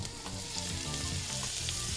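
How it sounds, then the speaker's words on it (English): Steady, dense sizzling of hot oil in a pan, crackling evenly throughout without pause. "you get a little bigger sizzle when you pour them in"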